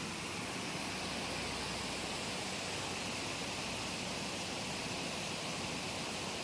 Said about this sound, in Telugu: ఇక్కడ వాటర్ అనేది ఎంత మంచి సౌండ్ వస్తుందో వినండి